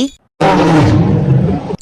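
A voice imitates a lion's roar, one loud, sustained growling roar lasting over a second with a rough, throaty texture, heard alone at close range.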